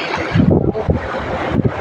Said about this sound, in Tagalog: Medyo mahangin lang ngayon.